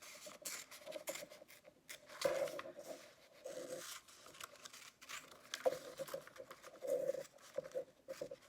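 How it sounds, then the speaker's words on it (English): Scissors snip repeatedly into the seam allowance of a bra, making a series of short, crisp cuts close by, with soft rustling of fabric between them and no talking. "now we're just going to snip into the seam allowance here"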